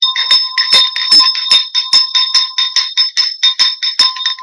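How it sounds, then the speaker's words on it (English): A bell rung by hand indoors, struck repeatedly in quick bursts, loud and close with bright, sustained metallic overtones ringing between strikes, no voices. "Okay, I'm going to ring the bell."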